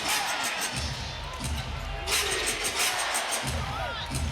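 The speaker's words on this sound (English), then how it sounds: "Crowd trying to inject a little bit of energy" A crowd fills a basketball arena during an NBA game between the Thunder and the Mavericks with a dense, steady roar. Low thuds and bursts of louder noise surge within it.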